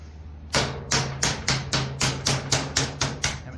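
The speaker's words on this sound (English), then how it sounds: "let's hammer that a little bit more." Repeated hammer blows fold sheet metal on a brake during heat pump fabrication, about a dozen sharp, ringing metallic strikes in a fast even rhythm, loud and close with no talk.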